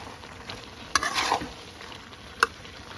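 Shrimp sizzles steadily as it is stir-fried with onion and other side ingredients in a pan, in a chili-paste stir-fry, with soft scraping and two sharp utensil clicks over the frying.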